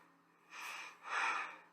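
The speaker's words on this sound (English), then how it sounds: "No, he's breathing heavily." Heavy, rasping breaths from a video being played back, two long swelling exhalations heard at low level, fairly close and clear, with no talk over them.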